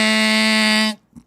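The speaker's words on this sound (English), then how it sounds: "There's the buzzer." A loud, harsh game-ending buzzer sounds at a basketball game, one sustained blare of almost a second that cuts off abruptly, followed by a faint short bump.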